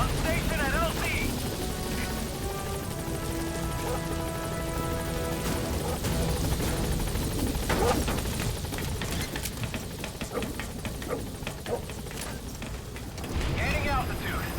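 In Metal Gear Solid V, a helicopter arrives at the landing zone with a dense rotor and engine rumble, mechanical clatter and bursts of gunfire-like noise, while voices talk over it.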